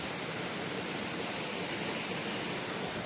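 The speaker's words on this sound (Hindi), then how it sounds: "यहाँ पे थोड़ा सा ये आजकल बरसात में ये गधेरा कुछ ज़्यादा ही आ रहा है, तो यहाँ पे थोड़ा सा पानी की आवाज़ आ रही है।" A mountain stream swollen by monsoon rains near a village, giving a continuous, even rushing roar of water that is close and loud with no other sounds standing out.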